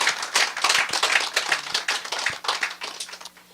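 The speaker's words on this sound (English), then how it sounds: "Can we get a nice warm clap to Sister Kala?" An audience claps warmly for a guest at a talk, a dense burst of many hands striking in a fast, irregular patter that stays loud before thinning out toward the end.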